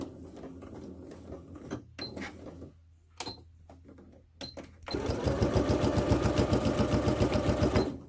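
Near the end, a sewing machine starts stitching the sides of a small pouch in a fast, even run of rhythmic mechanical pulses. Soft handling clicks and rustles come before it.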